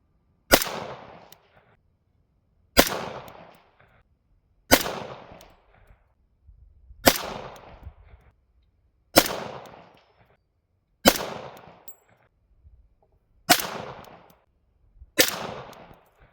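Eight loud, sharp handgun shots from a Taurus PT 24/7 .45 ACP pistol firing 230-grain full metal jacket rounds, spaced about two seconds apart in a steady rhythm, each cracking close by and trailing off in a short echo.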